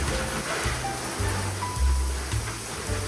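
Water showering over potted houseplants during watering, a steady splashing and pattering rush with low gurgling thumps, close and moderately quiet, no talk.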